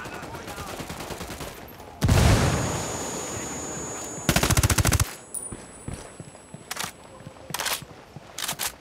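In Ghost Recon Wildlands, a frag grenade bursts in a loud booming blast, followed by rapid automatic gunfire in several bursts and a few sharp single shots, with a brief voice over the action.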